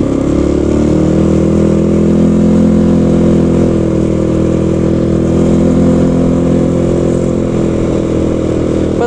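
The engine of a Sharmax 650 Force four-wheel-drive ATV hums steadily and loudly at close range as it drives along a bumpy trail, a continuous even drone without breaks.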